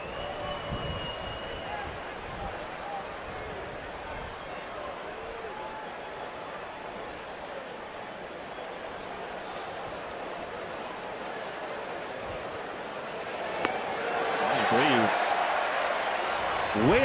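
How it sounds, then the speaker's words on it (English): Baseball crowd at Wrigley Field in Chicago giving a Bronx cheer, a steady broad roar of many voices and scattered clapping throughout, swelling slightly near the end. "Bronx cheer here in Wrigleyville."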